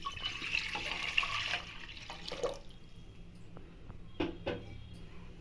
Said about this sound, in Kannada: ಹೀರೆಕಾಯಿ ಬೇಳೆ ಬೇಯಿಸೋಕ್ಕೆ ಒಂದು ಮೂರು ಗ್ಲಾಸ್ ನೀರು